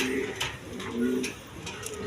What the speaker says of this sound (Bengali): এক পেয়ার কবুতর আছে, আপনার কোয়ালিটিফুল কবুতর, সিরাজি কবুতর